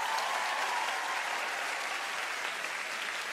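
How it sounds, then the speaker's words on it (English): A television studio audience at a masked dance competition show applauds loudly and continuously, with dense, even clapping and no break. "Give them a round of applause."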